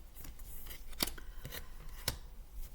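Tarot cards handled and shuffled by hand, heard as soft papery flicks and a couple of sharper snaps, quiet and close with a steady low background.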